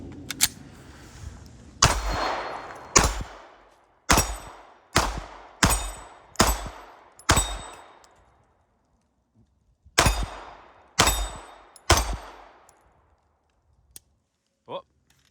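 Close, loud gunshots from a Wilson Combat EDC X9 3.25-inch pistol, about ten sharp reports in uneven bursts with short pauses and a faint click near the end, no talk over them.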